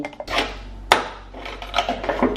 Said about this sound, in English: Just grabbing some ice cubes.